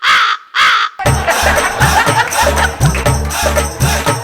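Two loud, harsh crow caws in quick succession, followed immediately by music.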